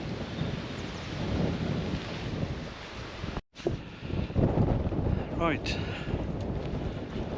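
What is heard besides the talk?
wind blowing against the microphone outdoors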